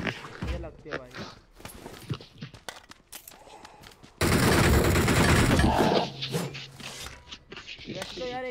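Bursts of automatic gunfire from PUBG BGMI mobile game play, including a loud sustained two-second volley midway amid shorter shots and footstep-like clicks, with someone talking over much of it.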